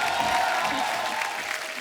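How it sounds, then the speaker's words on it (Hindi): A crowd at a stage event welcoming the Indian women's cricket team bursts into short, dense applause, with a faint steady tone underneath. "आप सबकी जोरदार तालियों के बीच बुलाता हूँ"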